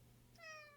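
A house cat gives one short, rising meow, faint and a little distant over a steady low hum in a quiet room.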